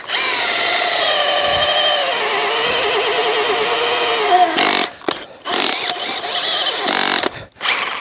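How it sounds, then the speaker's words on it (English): A hammer drill with a large auger whines steadily for several seconds, then bursts in and out in short grinding runs as it digs into soil, loud and close. "we're gonna take our hammer drill and our big auger."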